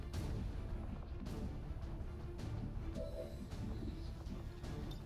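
Deep, rumbling combat blasts in XCOM 2: War of the Chosen fill the whole stretch at a low, steady level, with a few faint sharper pops but no single clear grenade burst, and no voices.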